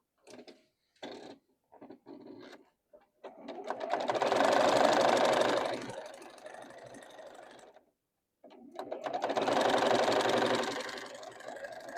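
A home sewing machine stitches a Tula Pink quilt block, first in a few short stop-start bursts, then two long, steady whirring runs separated by a pause, close and alone.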